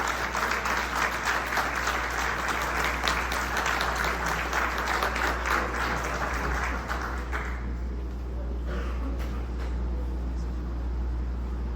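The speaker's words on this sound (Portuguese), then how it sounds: "Dê um forte aplauso para nosso Deus" A church congregation at a Sunday service bursts into sustained applause, a loud, dense clatter of many hands that holds steady and then thins toward the end over a low steady hum.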